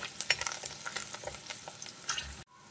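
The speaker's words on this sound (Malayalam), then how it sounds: "നമ്മുടെ ഇഞ്ചിയും വെളുത്തുള്ളിയും പച്ചമുളകൊക്കെ ഒന്ന് വഴണ്ട് വന്നു കഴിഞ്ഞാൽ" Ginger, garlic and green chillies sauté in a pan for a Kerala dried-fish curry, giving a steady sizzle with stirring scrapes and clicks, close and fairly loud, ending abruptly in near silence.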